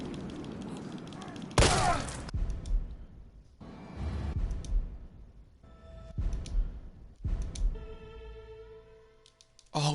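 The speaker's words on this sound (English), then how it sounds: "Now all that's left is to shoot Nikolai." Gunfire at Nikolai in Resident Evil 3 on Inferno mode: a loud burst of shots opens a dense in-game sequence of blasts, impacts and booming effects.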